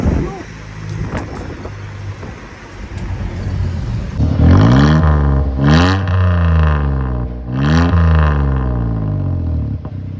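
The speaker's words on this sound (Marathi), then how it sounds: "आवाज येतोय का गाडीचा" A motor vehicle drives along a rough road, its engine rising and falling through gear changes with revving sweeps, loud and close, while people talk over it.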